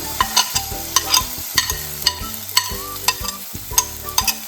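Hibiscus flowers fried in a pan with chili powder, stirred with a spoon in a steady run of sharp scraping clicks over a soft background sizzle, close and fairly loud with no voices.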